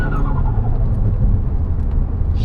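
A tuned Volkswagen MK7 GTI with a Stage 1 tune accelerates hard with brief wheel spin, its engine roaring loudly and steadily up close with a dense low rumble.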